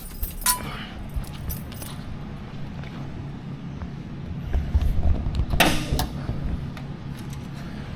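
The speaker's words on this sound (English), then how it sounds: "grab the keys." Keys to a 1974 Dodge Challenger jangling, with a few sharp metallic clinks and rattles close by, loudest bursts early and again around the middle, over a quiet background.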